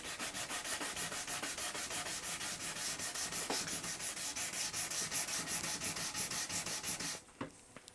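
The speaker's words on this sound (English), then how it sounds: "A bit of sandpaper will take that out." Rapid, steady back-and-forth scratching of sandpaper rubbing on a wood edge, close and continuous for several seconds, then stopping abruptly.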